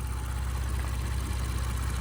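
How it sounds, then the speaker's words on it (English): A 2018 Porsche Macan GTS engine idling, a steady, smooth low rumble heard up close with an even, continuous hum and no revving or voices. "Idle's really smooth, sounds great."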